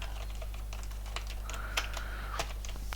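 Someone types on a computer keyboard into an MS Word document, with a steady patter of light key clicks and a few louder keystrokes over a low constant hum.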